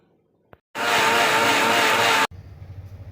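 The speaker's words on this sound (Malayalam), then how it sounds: "കുരുവില്ലാത്ത മുന്തിരിങ്ങ അര ഗ്ലാസ് വെള്ളം ചേർത്ത് മിക്സിയുടെ ജാറിലോട്ടിട്ട് അടിച്ചെടുക്കാം" A mixer grinder blends seedless grapes with water in its jar, a click then a loud steady whirring roar lasting about a second and a half before cutting off abruptly, followed by a low rattling hum.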